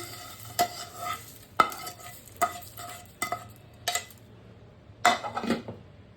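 Dry-roasted cashews and other dry snacks stirred and tossed in a pan, a series of scraping, rattling strokes about once a second, close and moderately loud, with no voices.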